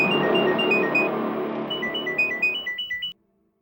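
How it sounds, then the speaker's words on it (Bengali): A phone rings loudly in a crime drama scene, a steady electronic ringtone that shifts into a rapid pulsing melody before cutting off abruptly. "গ্যাং থেকে ফোন আসবে অভিজিতের কাছে, আসবে ফোন।"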